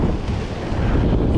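Ocean waves rush against the shore at Uvongo during fishing, a loud, close, churning wash mixed with heavy wind buffeting the microphone, with no voices.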